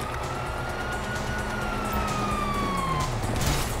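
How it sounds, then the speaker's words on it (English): A wailing police siren in Grand Theft Auto V sweeps up and down over a dense, steady background din, sustained and fairly loud throughout. "You hear that? Sirens!"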